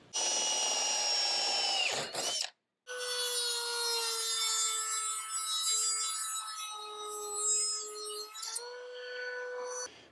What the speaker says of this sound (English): I need to slot these two screw holes